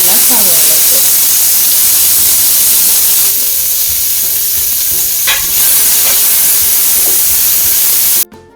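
Urad dal and rice fry in a pan for a Kerala leaf thoran, with a loud, constant sizzle and hiss and a few stirring scrapes, ending with an abrupt cut-off.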